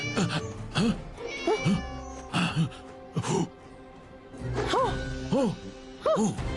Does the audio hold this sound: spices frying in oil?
no